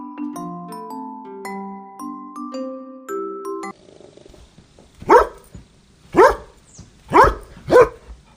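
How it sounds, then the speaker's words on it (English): A dog barks four times in loud, evenly spaced single barks, following a short cheerful melody of children's music that plays alone before the barking starts. "Dog."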